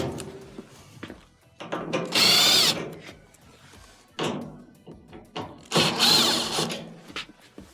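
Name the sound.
power screwdriver removing Phillips screws from a dryer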